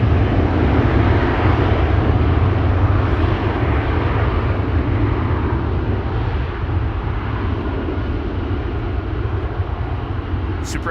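A KLM airliner at Amsterdam Schiphol Airport, heard as a steady, loud, broadband jet engine roar that holds constant throughout, with no voices.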